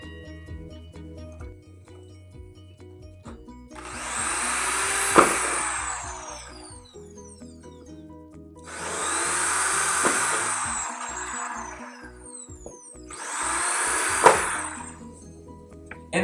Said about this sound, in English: we're going to drill 3 holes so it looks something like this.